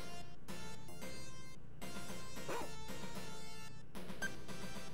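Dog barking in the Beggar Prince video game: a run of sharp, yappy barks and short whimpers in quick bursts, loud and close over a steady game soundtrack, with no talking.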